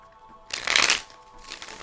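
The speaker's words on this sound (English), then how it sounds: "Let me get one more shuffle." A short, crisp riffle of tarot cards being shuffled, one quick burst followed by a softer flutter, close and quiet.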